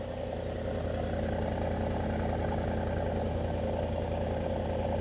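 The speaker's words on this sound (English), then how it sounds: "let's just admire the exhaust sound, guys. Amazing sound for the exhaust pipes." A Mercedes-AMG SL 63 4Matic+ Roadster exhaust idles steadily with a deep, throbbing rumble, loud and close, with no talking.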